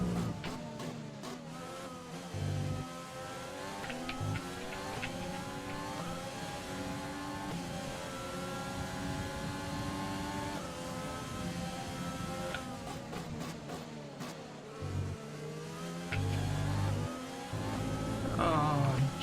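F1 car engine in an F1 video game at Bahrain, revving high and rising through gears with shift dips, downshifts and repeated accelerations, loud and steady throughout.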